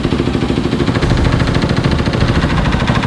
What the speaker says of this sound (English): So I let the bike warm up and made some adjustments to the carburetor.